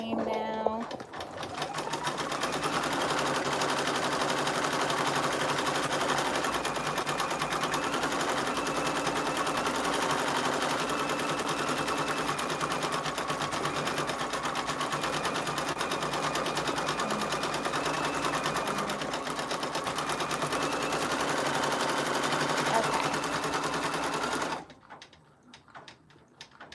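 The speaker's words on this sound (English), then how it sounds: "And so now you get to see how it cuts the jump stitch." A home embroidery machine stitches a name onto a Christmas appliqué shirt and trims the jump stitches between letters, a loud, steady, rapid mechanical whirring and needle chatter that runs continuously before cutting off abruptly near the end.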